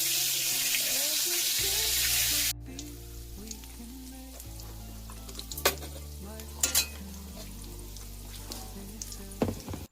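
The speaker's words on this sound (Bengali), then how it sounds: "মাছগুলো দেখো ভালোভাবে ভাজা হয়ে গেছে, এগুলোকে আবার কড়াই থেকে তুলে নেব এক এক করে।" A loud rush of sizzle from fish frying in a kadai cuts off after a couple of seconds, leaving quieter frying with sporadic clinks and scrapes of a utensil.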